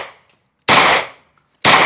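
Automatic rifle fire on a shooting range, two loud, close bursts of rapid shots separated by a short pause, with no talk.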